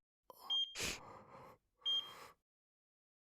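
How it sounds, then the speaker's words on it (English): A medical monitoring device in a video game beeping: a few short, faint, high electronic tones spaced apart, between soft breathy gasping sounds in a quiet scene. "I could hear a monitoring device near her, beeping at regular intervals."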